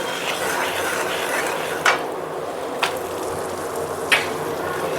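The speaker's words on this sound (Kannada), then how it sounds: "ಈಗ ರವೆ ಚೆನ್ನಾಗಿ ಫ್ರೈ ಆಗ್ತಾಯಿದೆ ಆಯಿಲಲ್ಲಿ." Semolina (rava) and cashews fry in oil in a pan for sapota kesaribath, making a steady close sizzle broken by three sharp clinks of a spoon against the pan.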